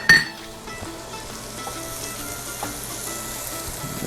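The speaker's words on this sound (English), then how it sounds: "we're going to deglaze with some vodka" Shallots and garlic sizzle steadily in a pan deglazed with vodka for a vodka sauce, a close, even frying hiss with a sharp burst at the start and faint stirring clicks throughout.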